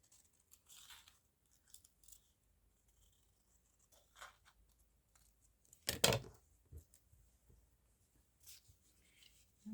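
Scissors cutting out paper pieces in a quiet room, with faint intermittent snips and rustles and one louder sharp cut partway through.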